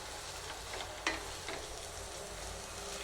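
Onions sauté slowly in a small amount of oil for spicy peanut chutney, a soft steady sizzle with a couple of brief clinks or stirring scrapes.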